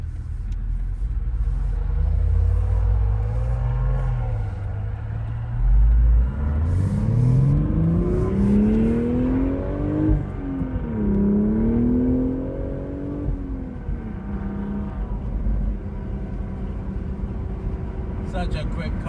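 A 2025 BMW Z4 M40i with a six-speed manual revs through gear changes, the engine note climbing and falling with rev-matched downshift blips, loud and close, with a voice talking over it.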